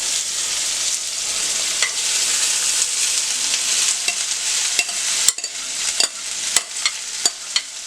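Rice frying in olive and sesame oil for chicken fried rice, a steady close bright sizzle with repeated sharp scrapes and taps of a utensil stirring in the pan, growing more frequent toward the end.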